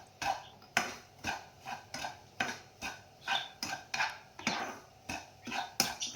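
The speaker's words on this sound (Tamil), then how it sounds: "ஒயிட் ரவை எடுத்துருக்கேன் பாங்க போட்டு நல்லா வறுத்து எடுத்துங்க நல்லா வறுத்து எடுத்துங்க ரவையை" Fine white semolina is dry-roasted in a pan, with about a dozen evenly spaced scraping strokes of a spoon against the metal, quiet and rhythmic, with only a faint sizzle between them.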